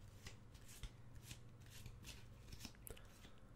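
A deck of playing cards being shuffled by hand, soft riffling and flicking bursts repeating close up and quiet in a calm setting, with no talking.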